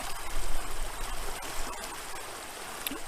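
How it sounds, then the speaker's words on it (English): Waves lapping along a lake shore in Maine, a continuous soft watery wash with gentle swells and faint splashes near the start, steady and unhurried with no talking. "Listen to the waves."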